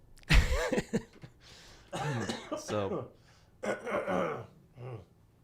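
A short, rough throat-clearing burst near the start, followed by someone talking in a low, close voice.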